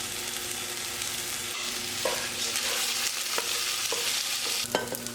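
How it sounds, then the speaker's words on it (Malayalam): Rice roasted in oil in a pot for mandi, a constant close sizzle broken by scraping stirs and occasional clinks of the spoon against the pot. "ഇനി ഇതിലേക്ക് നമുക്ക് അരി ചേർത്ത് കൊടുക്കാം. അരി വറക്കൽ നിർബന്ധമാണ് കേട്ടോ"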